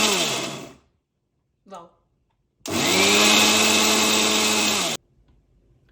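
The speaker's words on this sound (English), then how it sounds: "Let's turn the power on, and this we will put at number 1." A Philips 500 watt mixer grinder runs at speed 1, a loud close steady whir lasting about two seconds before cutting off, preceded by a brief motor burst and a short spoken exclamation.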